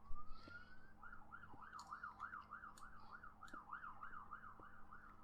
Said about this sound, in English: they hear the ambulance